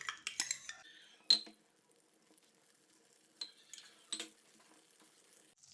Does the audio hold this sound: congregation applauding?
no